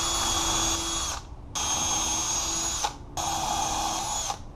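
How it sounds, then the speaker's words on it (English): A power drill whirs in three bursts of about a second each, high-pitched and close, with brief pauses between as it pre-drills into a wooden door jamb. "and I'll pre-drill."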